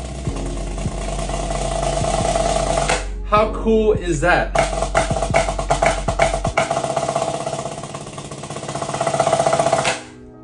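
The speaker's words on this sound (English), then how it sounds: "this is their new Cicada pad that has metal BBs on the inside so you can actually work on your buzz" A dense, continuous rattling buzz of sustained buzz rolls on a Cicada practice pad with metal BBs inside, swelling near the end; a voice speaks briefly midway.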